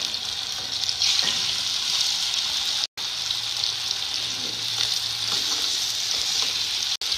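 Thin marinated chicken pieces frying in a pan over a low flame give a steady, close sizzle with faint stirring clicks, broken by two brief dropouts, with no talk.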